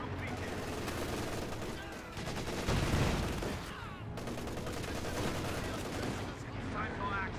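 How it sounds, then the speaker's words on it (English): Dense battle gunfire from a Company of Heroes 2 match as a Panther tank closes on an MG34 machine gun crew. Continuous overlapping shots and machine-gun bursts fill the scene while a commentator talks over them. "Panther engaging up closer to the machine gun crew."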